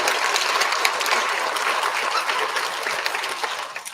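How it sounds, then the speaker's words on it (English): An audience at a school student recognition ceremony claps for fifth graders, a loud, dense round of applause that stays steady for several seconds before thinning slightly at the end. "One more big round of applause for our 5th graders"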